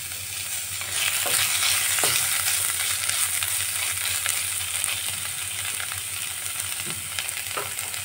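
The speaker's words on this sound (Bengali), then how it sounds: "এবার এর মধ্যে আমি কুচিয়ে রাখা টমেটো দিয়ে দিচ্ছি" Chopped tomatoes drop into ground spice paste that has been fried dry in a pan for a snakehead fish curry, giving a steady, loud, close sizzle and crackle with no voices.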